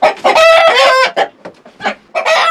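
A chicken gives a loud, close warning call of repeated harsh squawks and clucks in bursts, with short gaps between them and no talk.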